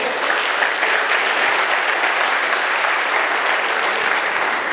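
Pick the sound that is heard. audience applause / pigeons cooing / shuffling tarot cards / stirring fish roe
audience applause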